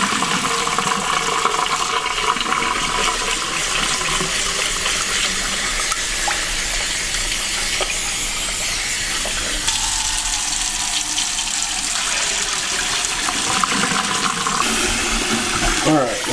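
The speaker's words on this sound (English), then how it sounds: "You actually want to rinse all of that out so that the water is crystal clear." Rice is rinsed in a bowl under a running tap, a continuous hiss and splash of flowing water with shifting sloshing as the grains are stirred, loud and close, with no voices.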